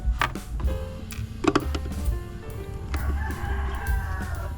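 A rooster crows loudly nearby in one long, strained call, with a few clucks from chickens around it and no talking.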